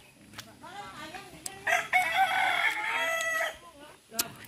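A rooster crows loudly at close range with a drawn-out cock-a-doodle-doo in a rural countryside yard, preceded by softer clucking and calls.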